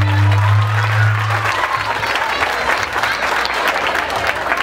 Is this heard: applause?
yes